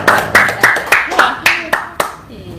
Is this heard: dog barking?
no